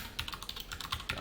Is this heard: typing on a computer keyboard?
yes